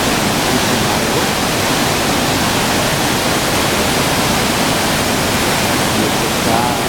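Water rushes at the Fonts de l'Algar springs, swollen after heavy rain, as a loud, steady broadband roar that fills the whole stretch without pause.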